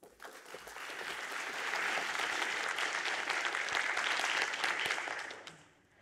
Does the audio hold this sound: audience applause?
yes